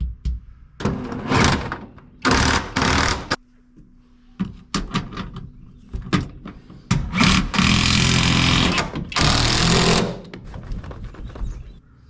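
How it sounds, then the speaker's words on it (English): Power tool driving bolts to mount a seat in a 1947 Plymouth P15 Special Deluxe, loud close bursts of whirring and rattling of varying length separated by short pauses and clunks. "now it's time to bolt the seat back in for the final time"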